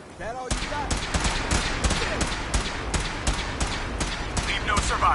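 Rapid, sustained gunfire from a Fallout 4 battle crackles loudly and close in a dense, continuous burst of overlapping shots, with game voices calling out over the shooting.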